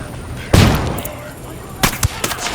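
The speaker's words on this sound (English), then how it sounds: "Throwing a flashbang." Gunfire and a flashbang grenade blast in the video game Ghost Recon Wildlands, with a sharp loud burst followed by several quicker shots close by.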